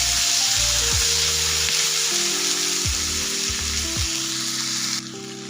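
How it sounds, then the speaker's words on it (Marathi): Finely chopped small tomato sautéed with onion in a pan, with loud close sizzling and a few spoon scrapes against the pan as it is stirred, quieting at the end, with no talk. "छोट्या आकाराचा एक टोमॅटो बारीक कट करून घेतलेला आहे, ते सुद्धा आपल्याला याच्यामध्ये ना परतून घ्यायचं आहे।"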